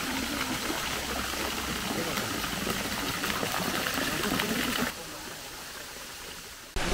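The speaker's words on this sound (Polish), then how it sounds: "a teraz zabiorę Was pod wodospad" A waterfall roars as a steady, dense rush of water close by, broadband and unbroken, dropping slightly in level near the end.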